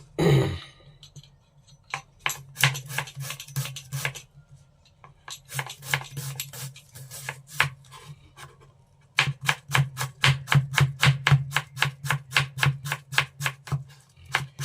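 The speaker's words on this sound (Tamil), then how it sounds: "இப்போ வெங்காயத்தை கட் பண்ணிக்கிறோம்." A knife chops onions on a cutting board, a rapid series of close, crisp taps coming in bursts with short pauses between them. No one speaks.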